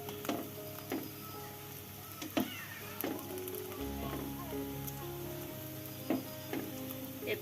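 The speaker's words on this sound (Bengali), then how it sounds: "এই পাশটা আমি 2 মিনিট ফ্রাই করে নিচ্ছি।" Paratha frying in a pan, a steady close sizzle with periodic louder crackles and scraping bursts from turning or pressing, no talk.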